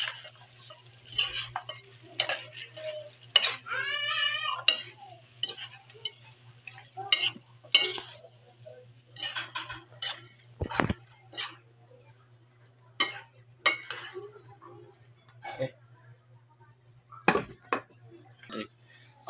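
Chicken feet are stirred in a cooking pot with bay leaves and peppercorns, giving irregular close clacks and scrapes of a utensil over a low steady hum, with a brief voice sound early on.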